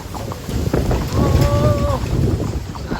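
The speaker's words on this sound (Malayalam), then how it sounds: "നല്ല കാറ്റും മഴയൊക്കെ ഉണ്ട്." Strong wind and rain in the hills of Matheran buffet the microphone with loud, low, rumbling gusts for about three seconds, with a short voice-like tone in the middle.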